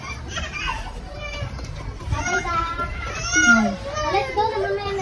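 Children play noisily in a cemetery, several young voices chattering, calling and shrieking together at close to middle distance, with a busy outdoor bustle throughout.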